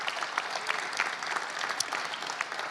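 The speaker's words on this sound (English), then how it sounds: "Please give them a nice round of applause." A press conference audience at a Phoenix Suns and NBA event claps steadily, a soft, even patter of many hands heard from a distance with no voices over it.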